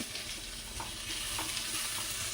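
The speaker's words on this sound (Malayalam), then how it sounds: "ഉള്ളി ഇട്ട് കൊടുക്കാം." Chopped onions sizzle steadily in hot oil in a pan while being stirred, cooking for a pepper chicken dish, a constant bright frying hiss with soft scraping stir sounds and no voices.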